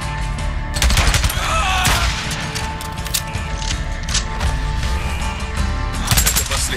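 Rapid bursts of gunfire in the video game Days Gone: dense automatic fire and overlapping shots over loud continuous game noise, with no clear speech.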